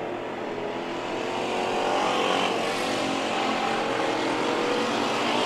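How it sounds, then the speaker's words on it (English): Factory stock race cars running a heat race at Perris Auto Speedway: a continuous, loud roar of engines revving around the track that builds slightly as the cars pass. "Lap number 1 of this heat race. Factory stocks."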